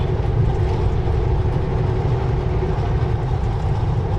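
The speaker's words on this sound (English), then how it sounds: "There's the end of the train." A long freight train rolls steadily past at close range, a dense continuous rumble with low engine drone and wheel noise that holds even throughout, no voices over it.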